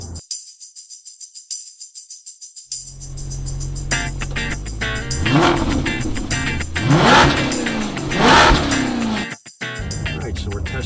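A Porsche Panamera V6 of about 300 horsepower, a used car with some rattles and squeaks, pulls away on a test drive, its engine note rising and falling through several revving surges after a quiet start, with people talking over it.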